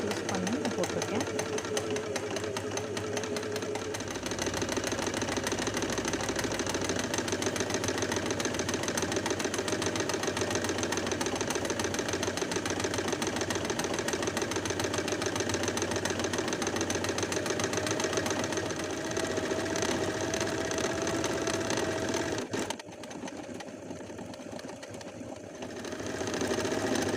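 An embroidery machine stitches a design onto net with a fast, continuous mechanical rattle that holds steady for over twenty seconds, then briefly drops in level near the end before resuming.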